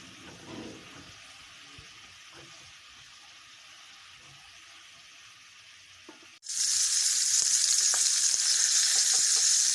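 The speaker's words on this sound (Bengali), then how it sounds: "কাঁকরোলগুলো ভাজা হয়েছে এবার উঠিয়ে নেব" Teasel gourd (kakrol) pieces fry in oil, a quiet crackle that suddenly bursts into a loud, dense, continuous sizzle partway through, with no talking.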